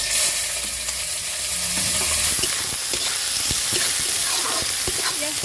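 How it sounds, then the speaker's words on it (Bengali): Chopped onion frying in a pan, a loud continuous sizzle with scattered crackles and occasional stirring scrapes, close up and alone. "পেঁয়াজটা হালকা লাল লাল করে ভেজে নিয়েছি"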